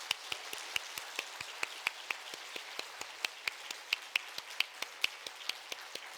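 A church congregation at a Wednesday evening service claps to thank a sign language praise team, a sparse, steady run of distinct handclaps in an even rhythm, fairly quiet and without talk.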